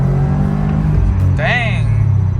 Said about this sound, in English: we're gonna do a first gear pull